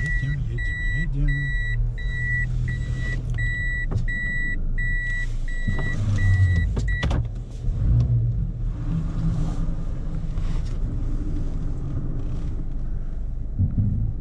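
Car driving slowly and reversing in the dark polar-night streets of Mirny, with steady low engine rumble, a repeating reverse beeper in the first seven seconds, and a few clunks under faint wind noise.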